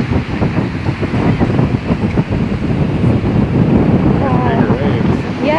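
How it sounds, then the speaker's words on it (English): Waves surge and crash on a Florida beach while heavy wind buffets the microphone in loud gusts, with a voice faintly audible beneath. "much bigger waves over here"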